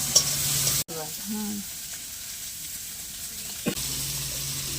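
Spice masala sautéing in a pan during home-style Bengali cooking, a steady close sizzle with stirring scrapes, briefly cut by a sharp gap near the start and a clatter near the end, no talking.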